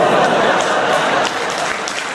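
Audience applause at a lively evening show, a dense wash of clapping that carries on steadily for a couple of seconds without a break.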